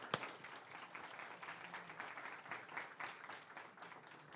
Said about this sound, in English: Please give a little more healthier clap.